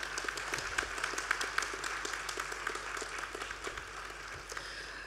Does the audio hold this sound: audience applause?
yes